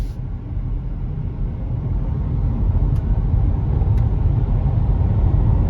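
A 2025 Nissan Leaf EV accelerating to 60 mph: a steady low road and tire rumble inside the cabin that swells gradually, with a couple of faint clicks and no talking.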